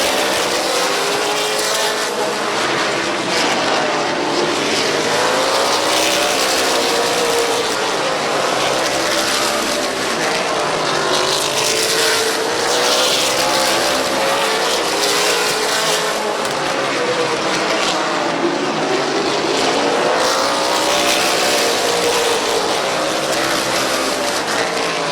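Race cars roaring around Midvale Speedway, engines droning and rising and falling in pitch as the pack sweeps past, a loud, continuous wash of motor noise with no talk over it.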